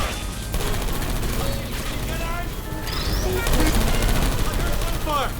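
Automated turrets in the video game Portal 2 fire in rapid bursts of gunfire with crashes and impacts, loud and continuous throughout, with voices faintly underneath.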